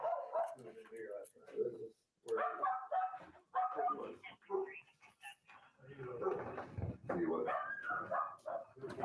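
Dogs inside a house bark and yip in quick bursts, close and mixed with people talking over them throughout.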